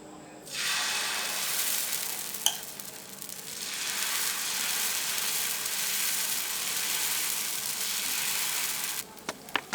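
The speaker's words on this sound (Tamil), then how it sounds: "இப்போ நான் இதை தோசைக்கல்லில் ஊற்ற போகிறேன்" Adai dosa batter hits a hot griddle and breaks into a loud, steady sizzle that hisses on for several seconds, with a couple of light clicks, then cuts off near the end.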